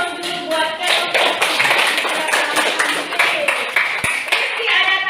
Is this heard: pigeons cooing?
no